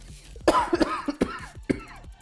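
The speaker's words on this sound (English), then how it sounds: "I can't wait till this cough goes away" Several harsh coughs close up, a burst of three or four in quick succession followed by a couple more after a short pause.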